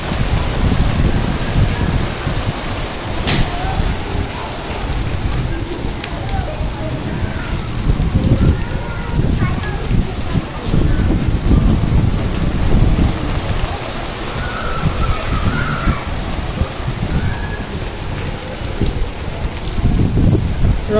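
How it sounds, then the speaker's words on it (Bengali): Heavy rain pours down with gusting wind in a loud, dense, unbroken roar of drops, and a voice is faintly heard speaking now and then. "ঝুম বৃষ্টি নামছে"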